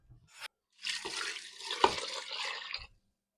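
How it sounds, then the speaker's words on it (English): Water from the sink is poured into a pot over chicken for soup, a short splashing pour lasting about two seconds, close and fairly quiet, bracketed by small knocks. "I'm just going to bring water from the sink over here."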